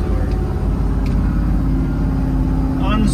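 A 1972 Ford F350 pickup truck's engine idles steadily and loudly up close, its low rumble running throughout with a brief voice heard over it.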